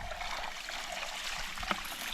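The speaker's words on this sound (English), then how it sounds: "then we just pour water on it from the back" Water pours over soil in a homemade sluice hopper, a steady close trickling wash with a small splash near the end.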